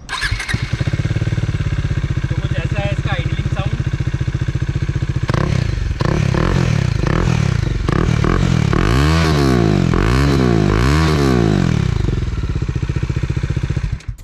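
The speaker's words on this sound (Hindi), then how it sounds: "एक बार व्यूअर्स को भी सुना देते हैं इसका एग्जॉस्ट जो आफ्टर मार्केट लगवाया है।" A Bajaj Dominar 400 motorcycle with an aftermarket exhaust idles loudly and steadily up close, then is revved hard in several rising and falling bursts near the end.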